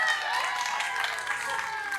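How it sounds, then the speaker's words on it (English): Crowd at an outdoor canine conservation show claps for a performing dog, a moderate spread of applause mixed with a voice talking over it. "He loves the loud applause."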